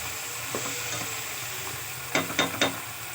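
Tomatoes with salt being sautéed in a pan for a karamani dish, a soft steady sizzle under several scraping stirs of a spoon, with three sharp clanking strokes near the end.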